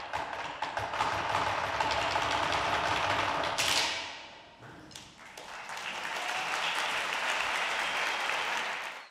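An audience applauds after a percussion ensemble from the Conservatoire de Vence plays John Cage's Living Room Music, dense steady clapping that dips briefly midway and then swells again to continue.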